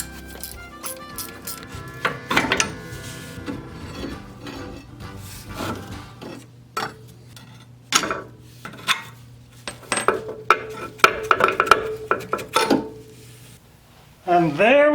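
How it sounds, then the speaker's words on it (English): A wrench works loose the bottom bolt of a worn Jeep shock absorber, giving scattered metallic clanks, ratcheting clicks and knocks close by, with someone talking in between. "let's see if we can break loose this bottom bolt"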